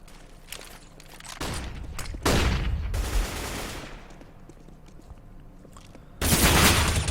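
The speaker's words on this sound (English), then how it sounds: "nice wall bang from Cyberfocus" Gunfire rings out in a Counter-Strike match on the de_cbble map: sharp shots and short rapid bursts, with a loud sustained volley near the middle and another at the end, and quieter clatter in between.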